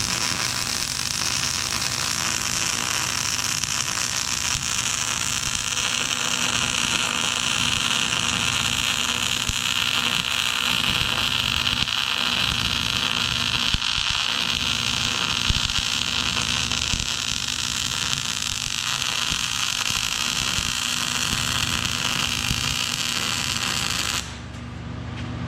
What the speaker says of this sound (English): Now we can start our big wide weld.